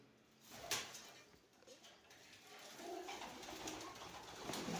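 Soft pigeon coos repeat a few times at close range, with faint rustling and background noise around them.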